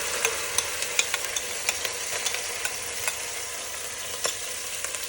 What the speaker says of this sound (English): Saute for 1 to 2 minutes until the raw smell disappears